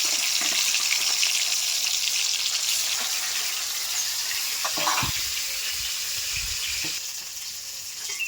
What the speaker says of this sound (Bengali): আমার মাছটা ভাজা হয়ে গেছে আমি তুলে নিচ্ছি